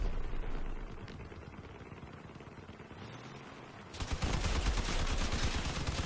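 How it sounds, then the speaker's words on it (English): Dense game gunfire from vehicle-mounted weapons in CrossOut, a steady rattle of shots that grows louder and more intense partway through, with mechanical clatter underneath. "I was trying to like shoot him in the wheels"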